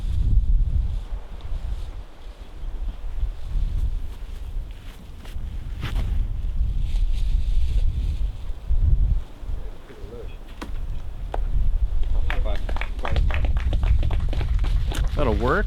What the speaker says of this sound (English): And look at the wind just ripping.